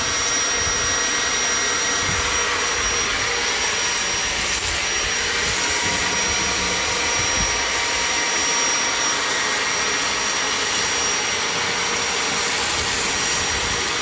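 A vacuum sucks a tray off a car part, giving a steady, loud, continuous whooshing roar that holds throughout with no talking.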